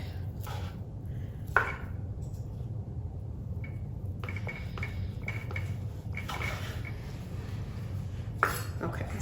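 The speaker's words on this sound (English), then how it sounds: "we're gonna go ahead and just slice all that up" Knife slicing leftover roast pork loin on a board, a series of close, soft cuts and a couple of sharper taps over a low steady background hum.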